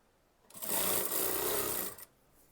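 An electric sewing machine whirs in one steady burst of about a second and a half, stitching a folded kurti hem at a long stitch length, close and fairly quiet, with no voices.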